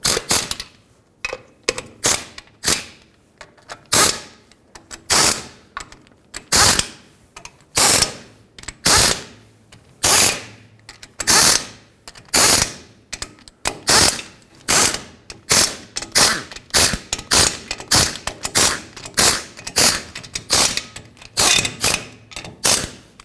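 Rapid bursts of ratchet clicking repeat again and again as differential cover bolts are tightened on a 2009-2011 Ford F-150, loud and close, with brief pauses between each run of clicks.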